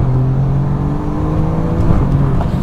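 An Alfa Romeo Giulia Quadrifoglio in race mode accelerates with a loud, close engine drone that holds a steady pitch and slowly builds, heard from inside the car with no talking.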